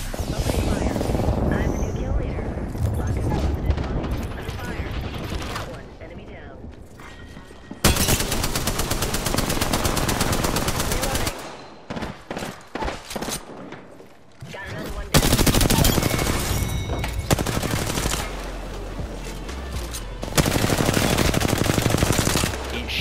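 Rapid automatic gunfire rattles in long, loud bursts during an Apex Legends match, separated by brief lulls, with game voice callouts and a player talking over the shooting.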